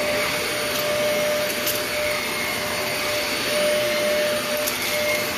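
A carpet cleaning machine extracts dirt from a heavily soiled, worn carpet with a loud, steady suction roar and a faint high whine throughout, and no pauses.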